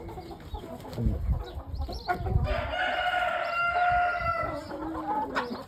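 Jersey Giant chickens cluck nearby while a rooster crows loudly in the middle, followed by more clucking and scratching sounds.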